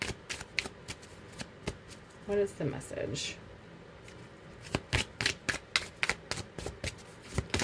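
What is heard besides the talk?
shuffling tarot cards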